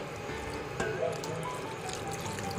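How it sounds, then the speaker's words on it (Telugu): A steady stream of water pours into a pot of chicken tikka gravy, a continuous liquid trickle with no pauses and no voices. "కొద్దిగా ముక్కలు మునిగేంత వరకు కూడా వాటర్ యాడ్ చేస్తున్నాను"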